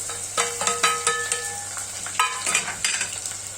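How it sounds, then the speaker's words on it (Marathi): Two onions fried in a pan with peanuts for green chilli khichdi, producing a steady close sizzle broken by repeated scraping stirs and light metallic clinks, with no voices. "हे बघा, कांदा टाकूया।"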